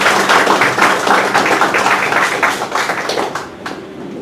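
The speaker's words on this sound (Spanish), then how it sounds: "lo recibimos con un caluroso aplauso" Warm applause from a seminar audience greeting a legal speaker, dense steady clapping that fills the room before gradually thinning out toward the end.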